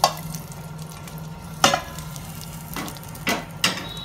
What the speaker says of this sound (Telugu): అల్లం వెల్లుల్లి పేస్ట్ వేసేస్తున్నాను.